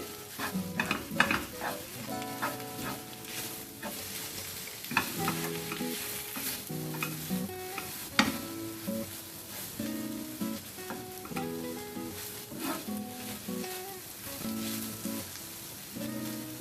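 A stuffing mixture for stuffed capsicum rings sizzling in a pan over a flame, a continuous bright sizzle broken by repeated spoon scrapes and clinks against the pan as it is stirred, no voices.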